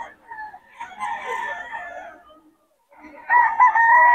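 Young gamecock stags crowing and clucking at a crowded Bocaue cockfighting market, with loud, close, drawn-out crows broken by a short pause.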